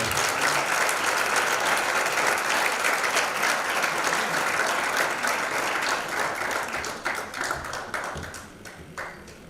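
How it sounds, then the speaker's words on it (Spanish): A seated audience at a Spanish religious brotherhood's proclamation and awards ceremony bursts into strong applause, a thick wash of clapping that slowly thins into scattered individual claps before fading. "un fuerte aplauso"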